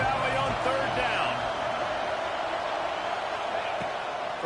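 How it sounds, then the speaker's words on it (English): A big stadium crowd at Happy Valley roars on third down in a college football video game on PS5, a dense, steady wash of noise with commentary voices over it. "Here comes the noise from this big crowd in Happy Valley on third down."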